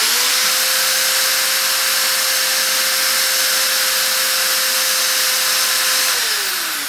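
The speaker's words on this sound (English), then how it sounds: "the Ryobi Heavy 3/8 power drill" A Ryobi 3/8-inch corded power drill, run from a portable power station, whines at a steady high speed for about six seconds, then winds down as the trigger is released.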